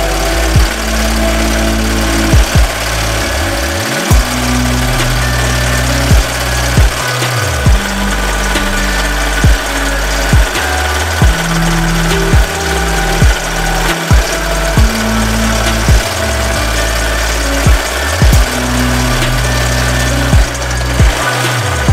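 An embroidery machine stitching a cartoon logo runs loudly and continuously with a rapid mechanical chatter, its pitch shifting repeatedly and broken by regular brief thumps every second or so.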